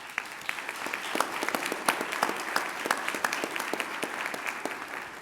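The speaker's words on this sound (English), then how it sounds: "Let's give them a round of applause." An audience at an awards celebration gives a round of applause for event sponsors: moderately distant, continuous clapping with individual sharp claps standing out, lasting several seconds with no talking.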